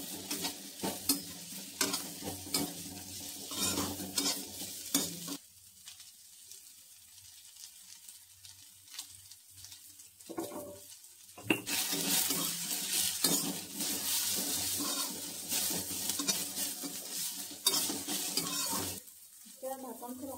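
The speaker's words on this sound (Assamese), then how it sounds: "এইখিনি শুকানকৈ অলপ ভাজি ল'ব লাগিব।" Bitter gourd with turmeric stir-frying in a hot pan, crisp sizzling with scraping stir strokes and clinks of the utensil, pausing to a quieter simmer in the middle before vigorous frying resumes.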